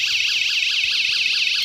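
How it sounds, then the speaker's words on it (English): A small First Alert personal door alarm, a magnet-triggered sound maker, blares a loud, shrill, rapidly warbling tone that repeats without pause from start to finish. "This is a little alarm system. This one's called a first alert."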